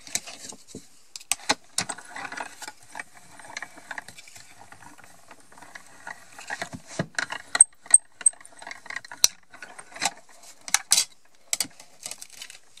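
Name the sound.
die-cutting cardboard for shaker cards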